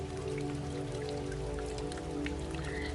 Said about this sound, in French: Et la pluie commence. Une pluie chaude, une pluie vivante, presque dorée.